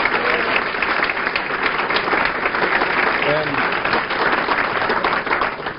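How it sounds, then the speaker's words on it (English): A large audience at a Heritage Foundation orientation dinner for new congressional members in 1994 applauds continuously. The clapping is loud and even and stays close throughout, with faint crowd murmur mixed in. "let's have a round of applause for Joanne."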